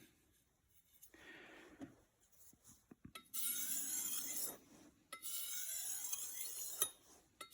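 A cheap knife blade being sharpened, with short rasping scrapes followed by two longer, louder strokes across the stone, each ending abruptly, close and alone with no talk.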